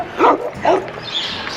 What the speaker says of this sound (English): We got a guard dog here that doesn't like us.